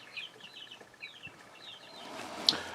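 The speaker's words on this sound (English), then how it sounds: "You hear that noise in the background? The chicks are getting quite a size now and they're quite active." Growing chicks clucking and cheeping in a short series of light, repeated calls somewhere in the background, with no one talking over them.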